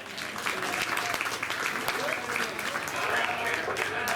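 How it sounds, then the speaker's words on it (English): A crowd applauds steadily at a youth sheep show ring at a county fair, dense clapping running throughout with voices mixed in underneath. "let's give them all one more big round of applause"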